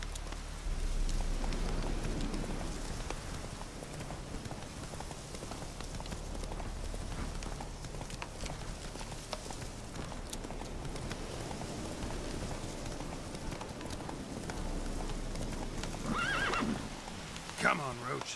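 Geralt's horse Roach from The Witcher 3 gallops with steady hoofbeats and lets out whinnies over rainfall, while a voice talks intermittently throughout.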